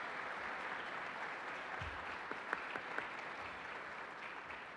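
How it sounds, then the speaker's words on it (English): Applause rolls through a Detroit Economic Club luncheon audience, with soft, even clapping from a large room that stays fairly distant and steady, and a few sharper claps standing out. "how about a round of applause to welcome those students and thank their generous sponsors"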